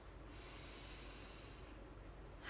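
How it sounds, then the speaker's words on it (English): A slow, deep breath drawn in and let out during a guided relaxation exercise, soft and close with a steady airy rush and no speech. "take a big breath"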